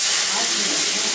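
White wine hitting a hot pan of garlic and capers, releasing a loud, broad hiss of steam that holds steady for about a second.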